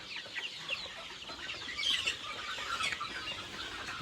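Free-range desi chickens on a farm cluck softly and sporadically at a distance, with faint bird calls and rustling in an open outdoor setting and no talk.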